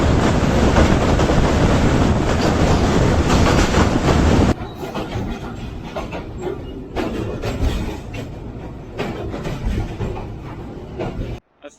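Sialkot Express 172 DN passenger train running on rails between Sambrial and Sialkot, a loud steady roar and rumble of wheels on track, shifting to a lower rattling, wind-buffeted clatter partway through, with no voices.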